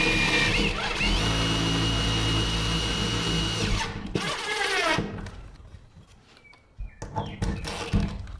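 Self-drilling screw being driven into a thick metal bar during a cargo trailer window installation: a steady, loud whirring drill motor runs for about four seconds, then stops, followed by quieter scraping and handling noises.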